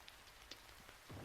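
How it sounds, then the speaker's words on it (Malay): Steady rain patters down in a Roblox game, a faint, even hiss with scattered drop ticks that swells slightly louder at the end. "Hujan lah pula."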